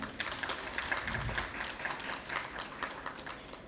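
Light applause from the audience at a climate-change and health panel session, faint and somewhat uneven, with individual claps standing out and rising and falling over a few seconds.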